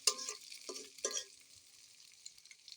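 Egg being stirred into noodles frying in a pan, a few short scraping strokes of a utensil over a quiet sizzle, fairly faint and close.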